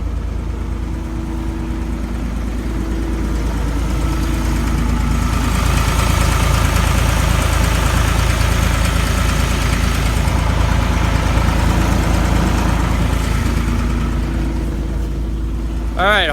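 A 2000 John Deere 260 diesel skid steer idles after a cold start on a cold day, a loud, steady, rough low rumble with knocking texture that holds throughout.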